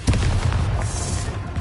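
Confringo fire spell blasting in Hogwarts Legacy, a string of loud, booming explosive bursts with a heavy low rumble that keeps going for under two seconds, no voices present.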